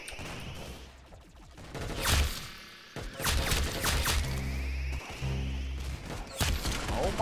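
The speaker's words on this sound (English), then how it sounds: "I cheated a little bit and used my hand cannon on him" Hand cannon gunfire in a first-person shooter video game, sharp loud shots cracking amid a busy mix of weapon and impact sounds, with several bursts across the stretch.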